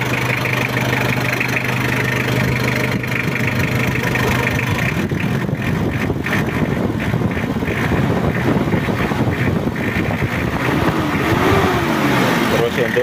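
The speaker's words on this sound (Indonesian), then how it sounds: "Untuk mesinnya udah anteng dan udah mantap." A Mitsubishi L200 diesel engine runs steadily at idle after an engine rebuild, a close, even mechanical rumble with some wind noise and a person talking over it.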